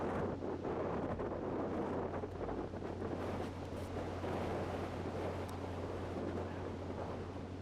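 Steady wind blows across an open disc golf course, a constant broadband rush buffeting the microphone with a low rumble underneath, continuous and fairly loud with no voices.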